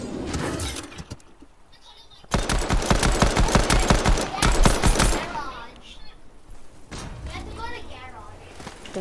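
In a video game, a rapid burst of laser rifle fire crackles for a few seconds amid other game effects, with a player talking excitedly before and after.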